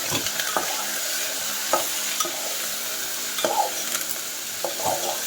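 Onions and drumsticks fry in hot oil with curry leaves and salt, giving a steady loud sizzle broken by periodic scraping stirs of a spoon against the pan, close up and without talk.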